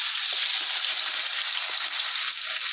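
Fish frying in a pan of hot oil, a steady bright sizzle and crackle held close and fairly loud, with faint small pops throughout and no talking.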